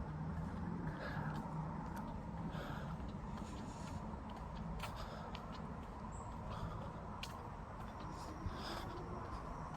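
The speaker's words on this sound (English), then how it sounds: "I'm starting to hear more car noise, so I think I'm getting closer to the road" Steady road traffic drone heard from a park path in Denby Valley, a continuous low rumble of cars without clear individual passes, with faint bird calls and sounds of the surroundings above it.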